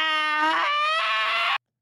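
A high, tonal scream with rich harmonics rises and wavers for about a second and a half, loud and close, then cuts off abruptly into silence.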